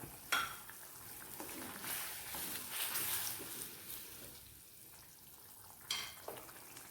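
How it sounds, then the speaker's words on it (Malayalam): Prawns and raw mango go into boiling curry paste in a pan: a soft, steady bubbling hiss with a sharp splashy drop near the start and another near the end, quiet overall with no voices. "ഇതിലേക്ക് നമുക്ക് മാങ്ങയും ചെമ്മീനും കൂടി ഇട്ട് കൊടുക്കാം."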